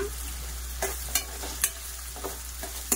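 Two green chillies fry in a pan for a prawn curry, making a soft continuous sizzle with a few sharp clicks from stirring, quiet and close, with a steady low hum beneath and no speech.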